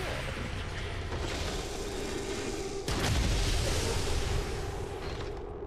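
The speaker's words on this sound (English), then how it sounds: "The shockwave of that explosion reverberated throughout most of the city" Explosion in XCOM 2, a sudden heavy boom with a deep low rumble that cuts in over a dense roaring background and then rolls on, loud and close, slowly fading.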